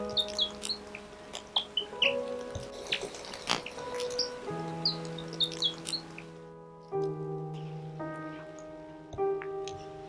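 A South Island robin, or tutuwai, in New Zealand bush gives faint, short high chirps scattered through the clip over a constant background hum and drips of water.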